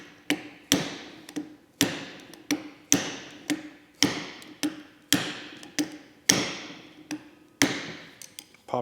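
A flathead or punch taps out a tie rod security washer on an abandoned Mitsubishi Evo 8 under rebuild, about a dozen sharp, close metallic strikes in an uneven, steady rhythm.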